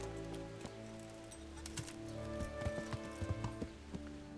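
Horse hooves clip-clopping in Kingdom Come: Deliverance, a steady run of light, moderately close hoof strikes over an ambient game music bed, with a faint whinny possible.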